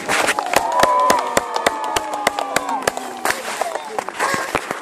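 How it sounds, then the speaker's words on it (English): Outdoor crowd at Warwick Castle cheering and clapping for a trebuchet crew, with sharp scattered handclaps over a swell of cheers and whoops that fades to lighter clapping. "let's please hear a huge cheer and a round of applause for the Trebuchet Master and the crew!"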